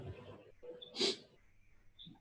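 A single short, sharp sneeze near the middle of a quiet indoor moment, close and moderately loud against faint room noise.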